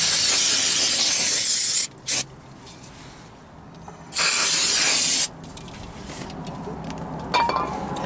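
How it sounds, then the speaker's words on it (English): Brake cleaner sprayed onto the front brakes of a 2006 Toyota Corolla: two loud, steady aerosol hisses of about two and one seconds each, separated by a short gap and quiet stretches, with no talking. "brake cleaner"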